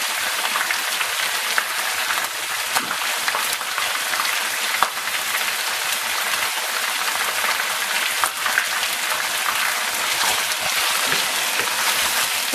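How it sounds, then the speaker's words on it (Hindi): Garlic and ginger frying in a pan for spicy chicken biryani, a steady bright sizzle and crackle that runs unbroken and close for the whole stretch, with no talking over it. "अब मैं इसमें 1 टेबल स्पून लहसुन डालूंगी और 1 टेबलस्पून अदरक डालूंगी।"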